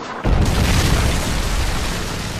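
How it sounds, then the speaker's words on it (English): A Predator missile detonates in Call of Duty: Modern Warfare 3 with a sudden, loud boom, followed by a heavy, rumbling roar that carries on at full strength. "Friendly Predator missile inbound."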